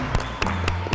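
A studio audience on a fitness festival TV set breaks into brief applause, a few quick bursts of hand clapping in a short, steady rhythm.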